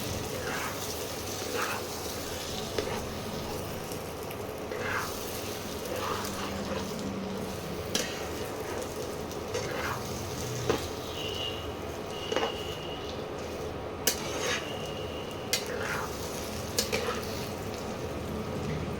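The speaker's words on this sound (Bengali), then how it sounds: "এবারে আস্তে আস্তে পেঁয়াজটার সঙ্গে ডিমটাকে মিশিয়ে নিতে হবে" Fish roe and onion stirred together in a pan over medium heat, giving a steady, soft sizzle with occasional faint clicks of the spatula against the pan.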